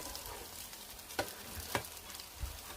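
Egg and tomato pancake batter frying in a pan, giving a soft, steady sizzle with a few sharper crackles and scrapes, fairly quiet and without any talk.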